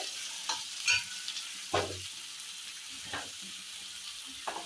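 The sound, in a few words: onions frying and being stirred in oil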